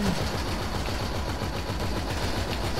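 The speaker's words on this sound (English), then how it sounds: "I'm laying a pistol down on him" Pistol fire in the game GTA 5 Online comes as a rapid, steady string of close, loud shots that runs without a break, with no talking over it.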